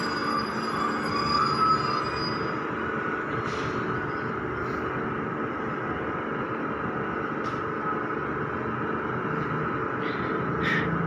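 Thai rapid train 111 passes through Chum Saeng station with a steady, loud rumble of wheels and carriages throughout, broken by brief high squeals from the wheels on the rails.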